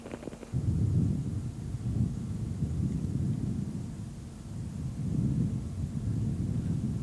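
Heavy rain falls in the Madagascar countryside, a steady low rumbling wash with rolling swells that suggest distant thunder, continuous throughout with no voices.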